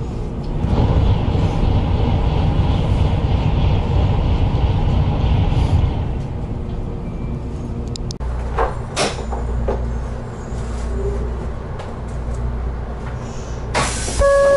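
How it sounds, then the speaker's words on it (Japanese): A Nozomi shinkansen rushes past a waiting train near Hakata, a loud broadband roar for the first six seconds that then drops away, leaving quieter rumble and a few clicks and knocks from the stopped carriage. "ここで先ほど博多に泊まってたのぞみの通過待ちをします。"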